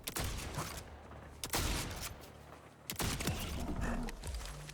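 Shotgun blasts in the video game Borderlands 4, several loud booming shots spaced irregularly over a couple of seconds, with no talking.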